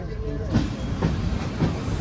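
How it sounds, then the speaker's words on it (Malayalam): The Thiruvananthapuram–Thrissur Intercity Express pulls away in heavy rain, giving a close, steady rolling rumble with soft rhythmic clacks and a wet hiss underneath. "ഇപ്പോൾ വണ്ടി എടുക്കുകയാണ് നമ്മുടെ ഇൻ്റർസിറ്റി"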